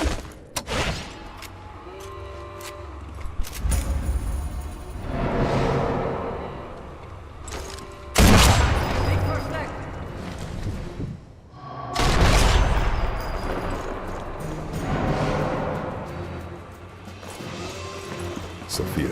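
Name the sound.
gunfire in the video game Sniper Elite 4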